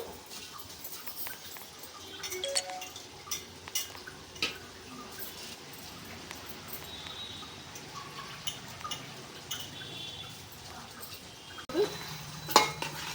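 Basmati rice being mixed into chicken pulao gravy in a pot: soft scraping and occasional clinks of a spoon against the metal pot, fairly quiet, with no talking.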